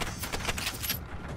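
Rapid gunfire in the video game Generation Zero, a dense burst of repeated sharp shots firing quickly and loudly for about a second before cutting off.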